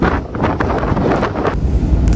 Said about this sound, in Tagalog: tingnan nyo kung naririnig nyo po yung hangin